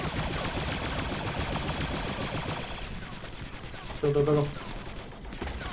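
Rapid gunfire in the Star Wars mod for the game Squad, a dense continuous barrage of shots throughout, with a brief spoken word partway through.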